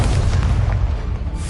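The Incendio fire spell cast in Hogwarts Legacy, a loud, dense whooshing burst of flame with a heavy low rumble that sustains through the short moment without pause.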